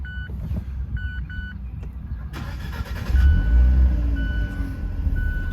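A 2017 Fiat 124 Spider Abarth cranks over and fires up close by, with a series of electronic beeps before the engine catches and settles into a loud, steady rumble.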